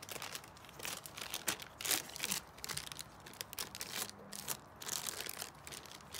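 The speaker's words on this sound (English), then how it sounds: "Rip your magazine page, crumple it up, and then continue laying and pulling." A glossy magazine page is ripped and crumpled by hand, giving close, irregular crackling and crinkling bursts that keep going steadily with no speech.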